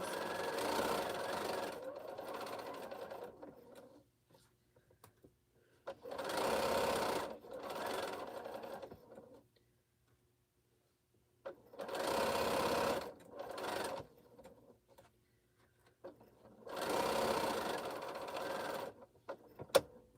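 A home sewing machine stitches quilt pieces for an exploding star quilt in several short whirring runs separated by quiet pauses, close and steady, with a voice murmuring in between.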